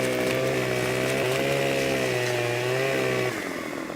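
Chainsaw cutting timber in the video game Farming Simulator 2015, a steady loud buzzing drone holding pitch for over three seconds before cutting off abruptly near the end.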